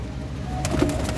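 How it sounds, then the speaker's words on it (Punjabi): Pigeon cooing from a loft at Ramna Kotli's house, a soft low coo rising near the end over steady background hum, close by and alone without talk. "ਰਮਨਾ ਕੋਟਲੀ ਦੇ ਘਰੋਂ ਆਇਆ ਹੋਇਆ ਕਬੂਤਰ ਆ"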